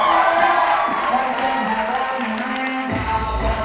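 A crowd applauds at a live show with singers and dancers, a dense wash of clapping and cheering beneath sustained music and voices.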